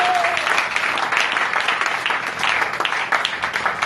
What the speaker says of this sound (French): Si tu peux acclamer plus fort pour la gloire du Seigneur.